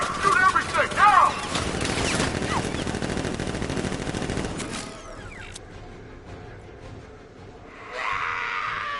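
Turrets firing in the video game Batman Arkham Knight, a dense rapid burst of automatic gunfire with mechanical rattling for several seconds that then drops away to a quieter rumble, with a voice shouting over the start.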